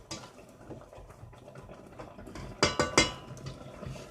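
A spoon scrapes and clinks against a pan while rhubarb is stirred for a crumble, with soft sloshing in the background and a few sharp, louder clanks near the end.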